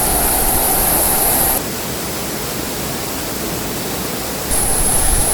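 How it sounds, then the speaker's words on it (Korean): The Ara artificial waterfall in Incheon, 45 m high and fed by four pumps moving 800 tons of water, gives a steady, loud, hissing roar. A brighter high hiss sits over the start and the last second. "한국에 이렇게 좋은 폭포가 있는 줄 여러분 아셨습니까? 인공 폭포요."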